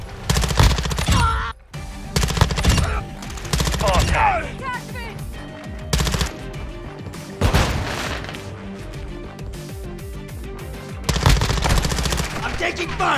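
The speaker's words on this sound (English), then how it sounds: "I'm taking fire!" Rapid bursts of automatic gunfire rattle almost nonstop in a Modern Warfare 2 multiplayer match, loud and dense with brief lulls and a heavier blast near the middle, while voices are faintly mixed in.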